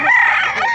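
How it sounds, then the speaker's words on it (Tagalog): A rooster crows once, loud and close, a short strained call that cuts off quickly, with no other sounds around it. "Ganda mga manok ko."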